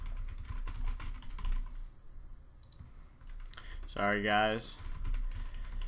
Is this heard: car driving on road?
no